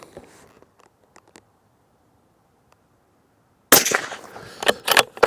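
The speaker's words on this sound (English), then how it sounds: "Right, let's see how these shoot 100 yards." A Benelli Lupo bolt-action rifle fires at a 100-yard target: after a long near-silent stretch, a sudden loud, sharp muzzle blast breaks out and rings with echoing bursts for over a second.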